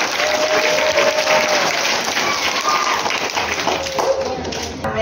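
An audience claps at a school children's literary gathering, with steady, dense applause from many hands filling the hall throughout and no voice above it.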